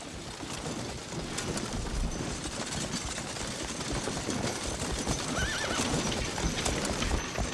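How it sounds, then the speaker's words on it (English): Horse-drawn supply wagons roll into a frontier camp, hooves clip-clopping steadily over continuous rumble, with a horse whinnying briefly and birds cooing in the background. "Supply wagons coming in."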